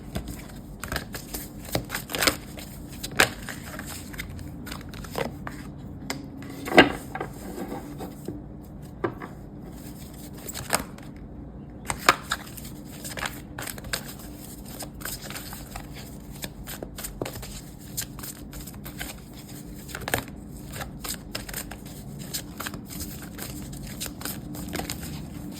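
Tarot cards are shuffled by hand at close range during a card reading, a long run of crisp riffles and soft slaps that come in irregular bursts over a quiet background.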